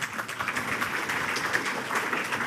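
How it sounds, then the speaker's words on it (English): Audience applause at a university forum, a steady, dense clapping from a crowd sustained throughout. "Please give another big round of applause to the chair of the session."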